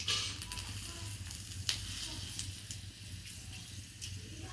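Whole spices such as cinnamon and black pepper fry in hot oil for a fish curry, giving a steady close sizzle with a low continuous hum and faint scattered crackles throughout.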